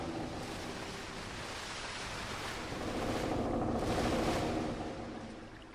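Ocean surf in the pirate survival game Forgotten Seas washes as soft, steady broadband noise, swelling slightly midway through as a wave rolls in, faint and without speech.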